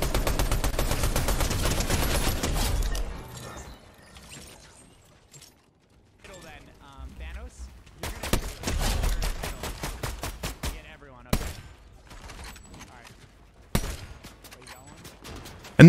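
Gunfire in Fortnite, with rapid bursts and fusillades of shots in several loud clusters split by quieter gaps, alongside game sounds and a player talking.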